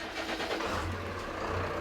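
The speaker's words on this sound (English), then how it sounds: "After the seacock is opened, we will fire up the port engine." The port engine on a boat with a large mechanical pump cranks and catches, giving a low rumbling turnover that settles into a steady throb. It stays moderately loud throughout, with no voices.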